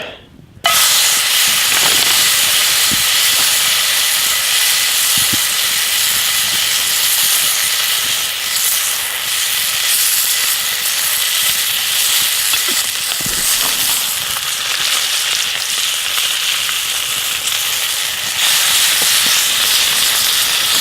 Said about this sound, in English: I'll throw my ribeye on here from the local meat locker.